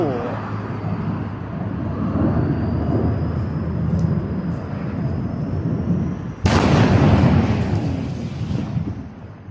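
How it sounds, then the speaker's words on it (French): A spaceship prototype rocket explodes during a test flight: a continuous heavy roaring rumble with a sudden loud blast partway through, followed by a louder turbulent roar that slowly fades. "Une autre explosion épique a marqué la fin du test du prototype de vaisseau spatial."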